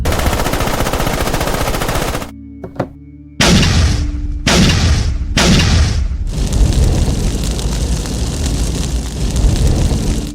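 Heavy cannon fire with exploding cannonballs booms loudly in a dense continuous barrage, then a short lull before several distinct blasts and a renewed roaring volley.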